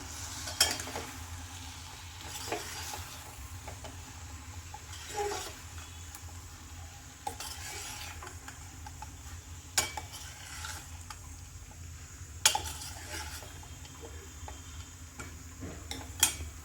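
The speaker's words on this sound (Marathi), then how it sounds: "तर आता हे सगळं मिक्स करून घेऊयात आपण" A spoon stirs chilli powder into a vegetable mix for bhogichi bhaji, giving faint scraping and occasional sharp clinks against the pan over a quiet background, with no talk.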